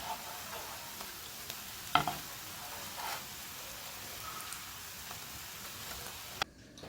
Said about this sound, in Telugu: ఇలా బాగా గోల్డెన్ రెడ్ కలర్లో వచ్చేంత వరకు వేయించుకుందాం